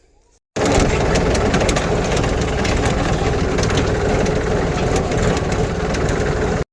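A farm tractor being taken to a cotton field starts up abruptly and then runs at a loud, steady idle. The low engine drone and mechanical chatter stay close and constant with no talking.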